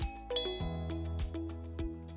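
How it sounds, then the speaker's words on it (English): A chiming doorbell plays a short melodic ding-dong sequence, clear and fairly close, with tones layered over a steady musical background. "And that's when my doorbell rang."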